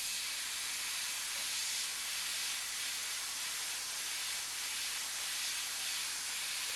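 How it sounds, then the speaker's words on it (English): An airbrush spraying paint for a gold rendering, held very close for fine detailed lines, gives a steady, even hiss that runs unbroken throughout at low volume. "When I want really fine detailed lines, I move the airbrush in very close."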